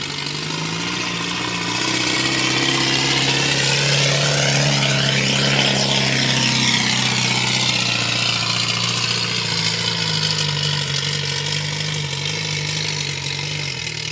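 A Minneapolis Moline tractor engine runs steadily at a barnyard tractor pull at the Georgetown Fair, giving a loud, continuous low drone with a faint rise in level after the first couple of seconds and no talk over it.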